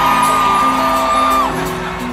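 A festival crowd at a live reggae concert screams and whoops loudly over amplified music, a sustained roar of many voices that eases slightly toward the end.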